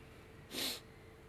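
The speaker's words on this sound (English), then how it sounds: "Oh, I gotta sneeze." A single short sneeze bursts out close and fairly quiet, about a quarter second long, over a faint steady background hum.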